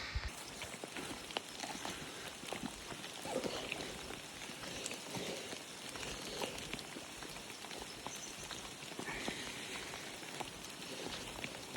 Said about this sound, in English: Just something about walking through the forest in the rain.